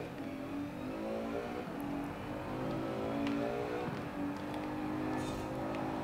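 A Maserati engine drones and revs in a racing video game, a continuous layered whine with shifting pitch sweeps and steady loudness throughout.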